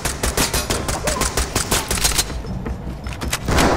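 Rapid bursts of video game gunfire crackle in dense, continuous volleys from start to finish, loud and close, with no talk over them.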